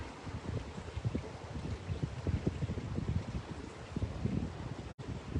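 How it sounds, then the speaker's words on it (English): Wind blowing over open water, a steady low rushing and buffeting against the microphone, fairly faint and continuous, with no talk. "we have a good wind today over the waters"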